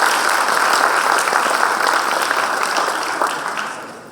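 Audience applause welcoming a speaker on stage at the SEED 2017 developer conference, a dense steady wash of many hands clapping that holds loud and then gradually fades toward the end.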